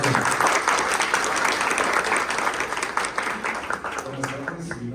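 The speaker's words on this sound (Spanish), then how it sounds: "Aplausos." Applause from an audience at a forestry business panel in 2023, a steady dense wash of clapping that holds loud for several seconds and then begins to thin out toward the end.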